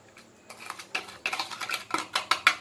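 A utensil stirs powdered sugar into oil in a pan for homemade cookie dough, making a quick series of close scraping and clinking strokes against the metal.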